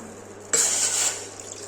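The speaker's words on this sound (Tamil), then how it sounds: "ஒரு டம்ளர் தண்ணி சேர்த்துக்கலாம்." Water suddenly starts pouring into a pot with a bright, splashing rush that settles into a steady stream, then tapers off; no voices.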